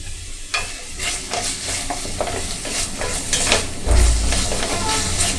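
Potatoes cook in a pan over medium heat, giving a continuous crackling sizzle with stirring scrapes and a louder burst of frying near the end; no voices.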